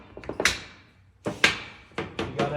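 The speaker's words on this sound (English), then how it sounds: "When I pull this lever, the air clamps that door up nice and tight." An air clamp machine clamps a glued shaker cabinet door. Several sharp pneumatic thunks and hissing bursts come in quick clusters, close and fairly loud, with short quiet gaps between them.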